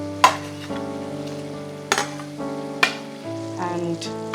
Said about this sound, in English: I'm going to add the mushrooms to the sauce.